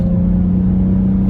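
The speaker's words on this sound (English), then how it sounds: "You can probably hear the engine when I do this." A 2021 BMW M440i engine held at a steady, loud, close-up drone with deep low rumble and a sustained harmonic tone, a brief continuous stretch without talk.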